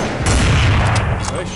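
A Magnum sniper rifle shot in Counter-Strike 1.6 on de_dust, a loud, dense burst of gunfire rolling over a short stretch amid game noise.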